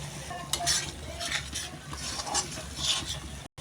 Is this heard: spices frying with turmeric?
yes